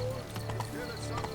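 Hooves clip-clop rapidly as a unicorn is ridden in Witcher 3: Blood and Wine, the brisk beats close up with a short whinny-like tone and a voice talking over them.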